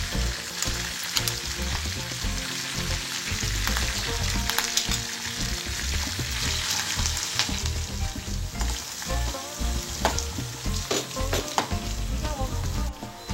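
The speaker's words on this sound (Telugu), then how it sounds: "తాలింపు ఫ్రై అయిన తర్వాత పచ్చిమిర్చి పేస్ట్ వేసుకోవాలి." Green chilli paste sizzles and crackles in hot tempering oil with curry leaves, a loud, continuous frying hiss punctuated by sharp pops and scraping stirs throughout.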